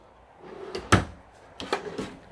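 A dresser drawer in a model home slides and knocks shut, giving a sharp wooden clunk followed by a softer second slide and thump, close and fairly quiet.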